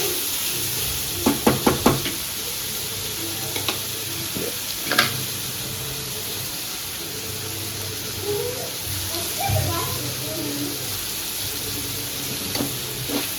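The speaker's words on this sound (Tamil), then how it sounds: "பூண்டு இஞ்சி பச்சை மிளகாய் இதை மூணுத்தையும் ஒன்றா போட்டு வதக்கலாம்" Garlic, ginger and green chili sauté in a pan with a little salt while making shark puttu, giving a steady sizzle throughout, with a few quick utensil knocks against the pan near the start.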